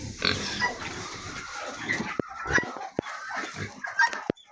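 White and black pigs grunt and squeal close by in a barn, with scattered sharp knocks and clicks among the snorting; no one speaks.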